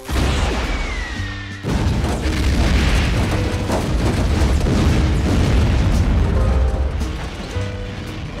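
A military test missile fires and explodes in a loud, sustained boom and roar, with rumbling blast noise filling the whole stretch and a brief dip early on.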